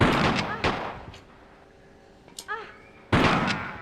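Shotgun blasts in the video game Tomb Raider 3 come as two sharp booming shots a couple of seconds apart, with someone talking over the opening and game effects sounding between the blasts.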